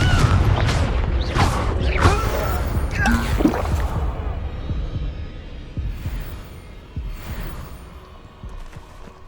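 Confringo spell cast in the Hogwarts Legacy video game, a burst of fiery magical blasts and booming impacts amid busy combat effects, loud and dense at first, then settling into a softer rumbling tail.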